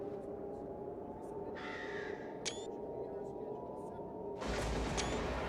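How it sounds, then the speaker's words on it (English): A crow caws in a dark video game setting, a few short calls over a low ambient drone, with a burst of thunder-like rumble near the end and someone talking. "There's a crow around."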